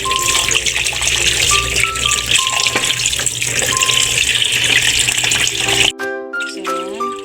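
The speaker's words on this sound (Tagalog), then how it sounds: "Patutuloyin natin ang kanyang tubig para malinis na malinis talaga yung ating pusit." Kitchen tap water runs steadily over squid sitting in a strainer, a loud continuous splashing rush with light metallic pings from the sink, then the flow stops abruptly near the end, leaving quieter rattling.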